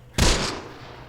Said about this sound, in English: That's just straight-up gunfire.